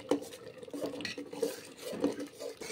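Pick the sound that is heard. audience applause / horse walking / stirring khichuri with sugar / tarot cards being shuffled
stirring khichuri with sugar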